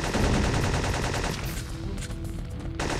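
Rapid M16 rifle fire from the PlayStation 1 game Syphon Filter 2 crackles in loud, dense automatic bursts, sharp cracks packed together and briefly easing midway before resuming.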